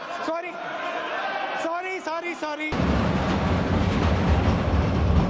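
People talk briefly, then a loud, steady rumble and rattle of a train rolling along the tracks near the Shetrunji River takes over and continues.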